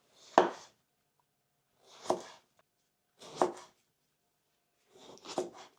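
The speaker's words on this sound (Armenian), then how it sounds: "Պետք է սմբուկները կտրատենք։" Knife chopping eggplants on a board, four separate slow cuts spaced about a second apart, close and crisp against a quiet room with no talk.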